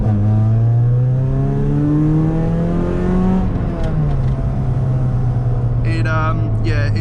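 A car engine, a replacement for an ST with a hard-cut rev limiter, revs hard in a low gear, its steady loud drone climbing in pitch, dipping midway, then climbing again, with brief talk near the end.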